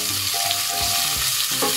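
Chopped onions hitting hot oil in a pan while pork belly paksiw is being cooked, giving a steady close sizzle with short scraping stirs and clinks, and no talking.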